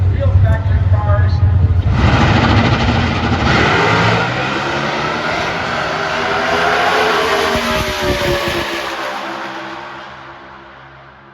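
Four supercharged small-block Chevrolet Camaro factory stock drag cars, weighing 3,500 pounds with full interiors, race down a dragstrip. The engines roar loudly, swell and then fade into the distance, with commentary heard over them.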